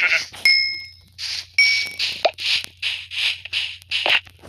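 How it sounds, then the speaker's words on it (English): Sheep in the Minecraft video game bleat repeatedly, with a series of loud, close, nasal game bleats, joined by a couple of short chime-like dings and no speech. "Three sheep."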